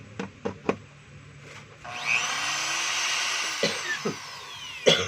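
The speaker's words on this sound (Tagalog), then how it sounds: "kailangan natin paandarin to na nakabukas para makita natin kung masiklab" A DeWalt D25133 rotary hammer runs with its housing opened, the motor spinning up into a steady high whine for about three seconds, framed by a few sharp knocks and handling clicks before and after.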